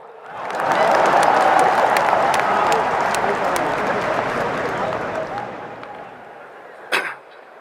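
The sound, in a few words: audience applause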